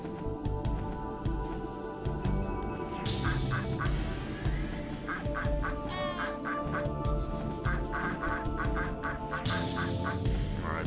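Ducks in the video game Frogger quack and honk in repeated loud bursts over a busy game backdrop, the calls recurring in clusters through the whole stretch without any talking.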